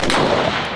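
A handgun shot, loud and close, a single sharp burst that decays quickly, fired while demonstrating stance and grip for controlling recoil.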